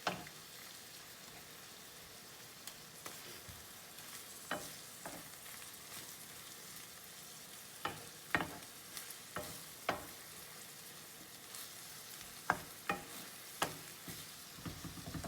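Ground meat for lasagna browning in a pan, a low steady sizzle broken by occasional sharp clacks and scrapes of a spoon stirring, quiet and close.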